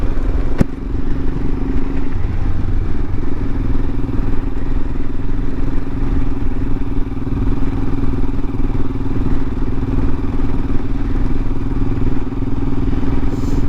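A Royal Enfield Himalayan motorcycle rides along a road toward the town of Gunlock, its engine a steady, continuous drone with road and wind noise for the whole stretch.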